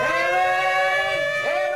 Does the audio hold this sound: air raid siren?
yes